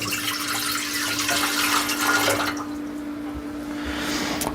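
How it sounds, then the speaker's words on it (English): Water, 180 millilitres, pours steadily into the pan of a Vevor bread maker, a close continuous splashing stream that softens partway through, alone with a faint steady hum beneath. "So this is 180 milliliters of water. So we're going to pour that in."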